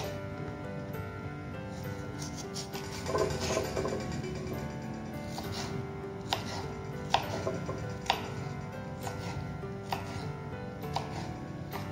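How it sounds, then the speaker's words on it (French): A knife chopping cucumber into small pieces on a board, giving a steady run of light, crisp taps with a few sharper knocks, fairly close and moderately quiet, with no talk. "je vais couper mon concombre en petits bouts"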